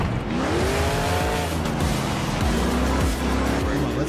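Monster truck engine revving and roaring continuously in the Monster Jam Showdown video game, with shifting pitch, tire noise and skids, loud and unbroken throughout.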